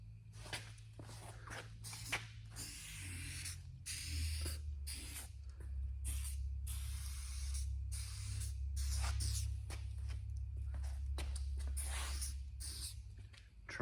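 Adhesive remover sprayed from an aerosol can onto old residue during a 1972 Corvette C3 T-top restoration, heard as a series of short, close hissing bursts with brief pauses over a low background hum.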